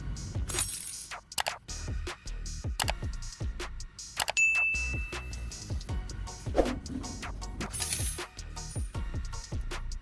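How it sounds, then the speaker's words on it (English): Pliers snip through a metal clothes hanger, giving sharp close clicks, metallic clinks and small clangs at irregular intervals, with no one talking. "I use the pliers to cut at each marked location"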